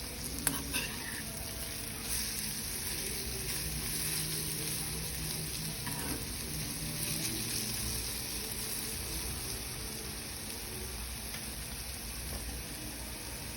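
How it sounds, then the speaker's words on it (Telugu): Elephant foot yam pieces frying with salt in a pan give a steady, moderate sizzle that runs unbroken throughout, with a few faint clinks near the start and no talking. "కొంచెం సాల్ట్ వేసి ఫ్రై చేసుకోవాలి."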